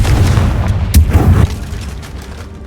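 A Confringo fire spell blasts in Hogwarts Legacy: a loud, rumbling burst with a sharp crack near the middle. It then fades into a softer low rumble.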